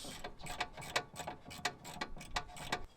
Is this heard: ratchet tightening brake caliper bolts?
yes